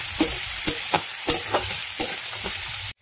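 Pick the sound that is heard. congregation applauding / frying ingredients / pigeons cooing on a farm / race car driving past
frying ingredients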